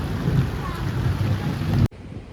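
Thunder rumbles deep and heavy through pouring night rain, a loud continuous roar with wind noise on the microphone that cuts off abruptly near the end.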